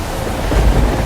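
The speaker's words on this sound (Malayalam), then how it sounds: "തോരാത്ത മഴ, നിലയ്ക്കാത്ത കൊടുങ്കാറ്റ്, തോടുകളും പുഴകളും കരകവിഞ്ഞൊഴുകി." Heavy rain with a thunderstorm roars loud and steady, a dense wash of noise with a deep rumble swelling briefly toward the end.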